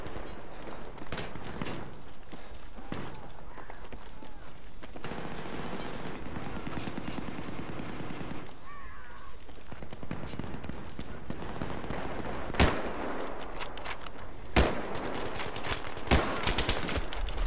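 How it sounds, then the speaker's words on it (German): Rapid bursts of gunfire from the video game Battlefield 3 in a close-quarters round, continuous automatic fire with a few sharp, louder single shots near the end, steady and fairly close throughout. "Drin wird geschossen."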